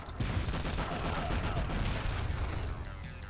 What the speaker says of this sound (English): this one also has a gun, so the first thing you do is